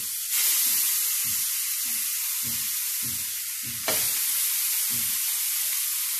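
Meat kebab skewers searing on a very hot grill pan, a loud continuous sizzle that surges as a skewer goes down, with soft rhythmic taps and scrapes underneath and no talking.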